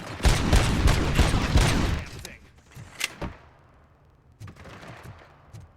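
In RoboCop Rogue City, close rapid automatic gunfire rattles in a dense burst, then gives way to a few isolated single shots and thuds over quieter game ambience.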